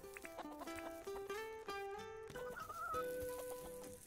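Chickens cluck and call in the video game Dinkum, a series of short bird notes over steady game music, moderately loud with no talk.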